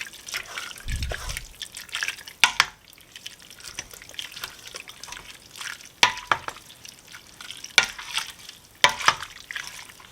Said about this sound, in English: Now I'm adding my egg noodles. And give it a good stir now.